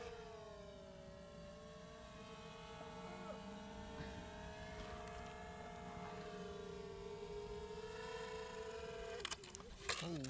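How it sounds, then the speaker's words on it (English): A Develop Air micro drone arms and lifts off, its small propellers whining in a sustained rising tone, close by, with a clatter of bumps near the end. "arming again, and I'm going to try a quote unquote manual takeoff"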